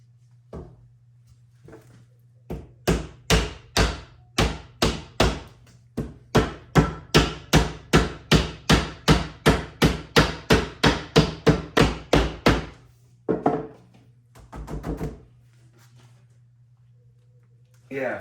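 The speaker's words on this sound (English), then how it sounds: "Is anybody else cringing while I'm tapping on that glass with a hammer?" A long, steady run of sharp hammer taps on the quarter glass of a 1929 Ford Model A Tudor, about two per second, loud and close, tapering into a few scattered knocks.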